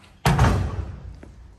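A car door opens with a push-button release, giving a single sharp thunk followed by a fading rattle and rumble, close and fairly loud, with a faint click about a second later.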